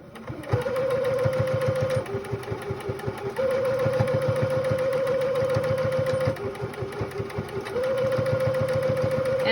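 A sewing machine stitches pleats on a reusable fabric face mask, running in steady bursts with brief pauses as it reverses over each pleat, close and fairly loud.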